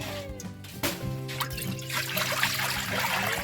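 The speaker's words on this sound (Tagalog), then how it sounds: "magpakulo tayo ng tubig." Water is poured into a pot for boiling while a grilled pork liver soup is being cooked. It makes a steady trickling, splashing stream that fills the clip and thickens toward the end, with no talk.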